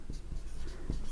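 Chalk or marker writing on a board during a maths lesson, a few short scratchy strokes with soft taps, faint and close, with no talk.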